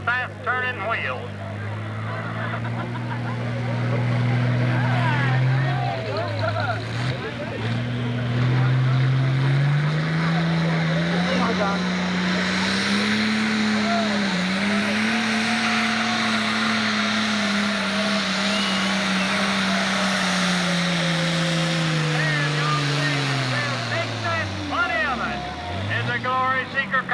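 A 10,000 lb class pulling tractor, a Ford, makes a loud, sustained engine roar at a 1995 Fisher, Illinois tractor pull, its pitch climbing steadily, wavering, then dipping near the end. Voices can be heard at times over the engine.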